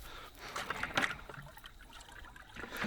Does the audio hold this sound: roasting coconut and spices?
no